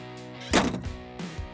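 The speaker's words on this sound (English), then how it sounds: "You just pull this handle and it disengages it and you can close your door." Cab door of a Rippa RS20 skid steer swinging shut with a single solid thunk and a brief rattle afterward, heard close up over a low steady engine hum.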